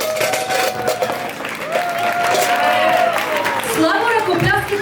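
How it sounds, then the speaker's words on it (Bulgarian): Guests at a Bulgarian wedding clap and cheer for the bride, a dense burst of applause mixed with loud crowd voices and a singing or shouting voice on top. "3, 2, 1, аплодисменти за булката!"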